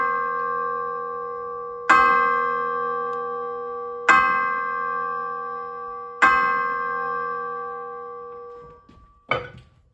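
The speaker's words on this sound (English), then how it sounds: "Tubular bells, pitched instrument." Tubular bells struck three times at steady intervals, each metallic clang ringing with long, sustained overtones that slowly fade before the next strike, followed by a final softer hit and quick damping.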